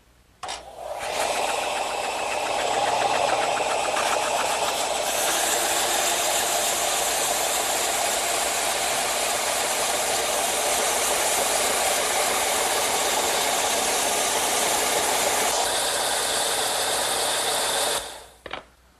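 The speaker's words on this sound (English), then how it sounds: "I'm going to use my vertical belt sander." A vertical belt sander tapers wood edges, starting up into a loud, continuous abrasive roar with a rattling hum, running steadily for most of the time before winding down near the end.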